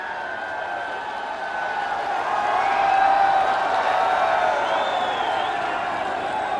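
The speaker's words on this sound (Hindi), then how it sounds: "आप सबकी जोरदार तालियों के साथ" A large crowd at a Varanasi public event with the Prime Minister claps and cheers in a dense, continuous roar that swells slightly midway. Faint voices mix into the crowd noise.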